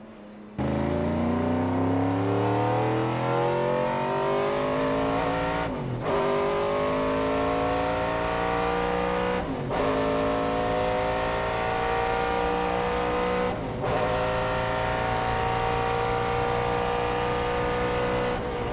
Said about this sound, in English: the M3 GTR does have the better sounding engine. Have a listen to this